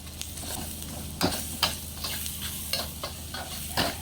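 Ginger, garlic and onion sautéing in a pan with a chicken cube, a quiet steady sizzle broken by several sharp scrapes and taps of a spatula stirring the aromatics.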